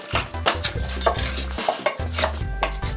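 Halved radishes and potatoes stirred in a pan with chicken wings, close rhythmic scraping and clunks of a utensil against the pan under a light sizzle.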